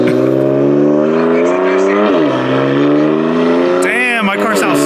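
A bagged BMW F80 M3 is heard from outside, its loud engine holding a steady, close drone that dips and climbs, then rises in a quick rev near the end, with voices talking over it.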